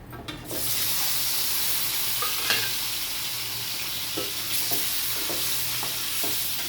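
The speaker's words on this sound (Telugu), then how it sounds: "ఈ కోడిగుడ్లు అయితే కొంచెం వేగాలి ఈ ఆయిల్లో" Eggs with turmeric fry in oil, a steady bright sizzle that swells as they hit the pan, with occasional light taps of a utensil against the pan.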